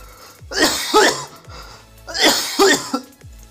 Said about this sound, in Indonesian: gua batuk tadi